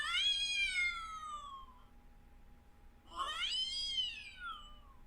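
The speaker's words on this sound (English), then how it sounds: "That was my cat." A house cat gives two long, drawn-out meows, close and clear, separated by a short pause over a faint steady room hum.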